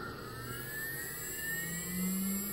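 A CNC 6040 router spindle spins up, a steady whine rising gradually in pitch over a constant mechanical hum, fairly loud and close with no talking.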